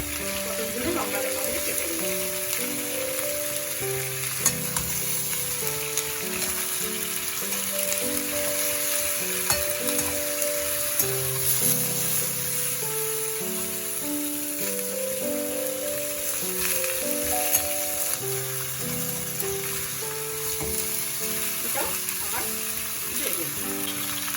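Vegetables frying in a pan for a Bengali marich jhol, a steady soft sizzle running the whole time beneath louder background music.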